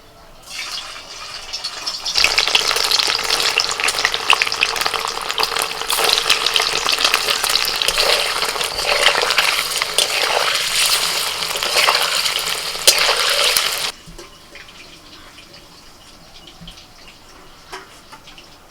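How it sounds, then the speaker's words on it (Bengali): Paneer pieces fry in white oil in a wok, a loud dense sizzle that bursts in suddenly, roars steadily for about twelve seconds, then cuts off abruptly to a quiet background. "কড়াইতে সাদা তেল দিয়ে দিয়েছি আর সাদা তেলে দিয়ে আমি রান্নাটা করব প্রথমেই আমি পনির ভেজে নিচ্ছি"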